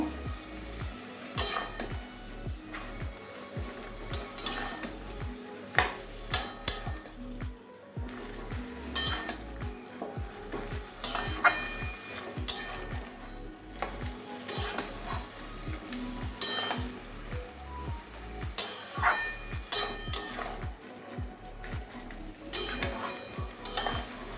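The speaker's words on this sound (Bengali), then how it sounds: "এবারে সব কিছু ভালো করে কষিয়ে নিচ্ছি" Boiled stems, potato and papaya sautéed together in a pan, with a constant sizzle under brisk, rhythmic spatula strokes and repeated metallic clinks against the pan, close and fairly busy, no one speaking.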